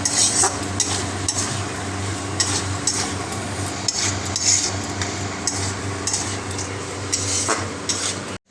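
Spice masala being stirred and sautéed with crab in a pan, a busy stretch of repeated scraping and clattering spoon strokes over a continuous sizzle, close and fairly loud.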